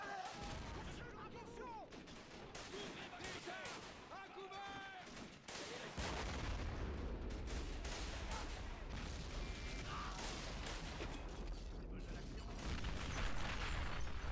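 Machine gun and rifle fire in a First World War video game battle at Fort de Vaux: rapid, dense crackling bursts of gunfire with distant booms, continuous and moderately loud, with someone speaking over it at times.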